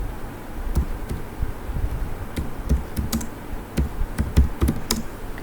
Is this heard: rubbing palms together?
no